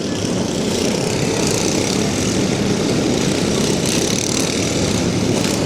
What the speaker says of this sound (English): he's just going to hammer his way through the mess of mowers down on the high side of the track